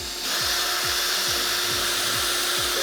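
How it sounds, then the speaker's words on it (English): A power drill whirs steadily while drilling holes in a plastic NERF pistol, with a rhythmic rubbing pulse about every half second, close and alone. "I'm also going to run the drill in just a little bit. For the holes on the other side."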